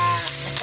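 Pork belly frying in its own rendered oil, a steady close sizzle with faint crackles through the short stretch, no voices.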